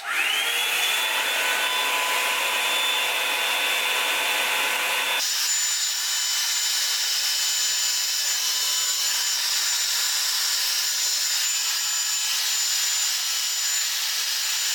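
A Bed Head Blow Out Freak one-step hair dryer runs loudly and continuously with a steady whine, jumping to a higher, brighter speed setting partway through and holding there, with no talking.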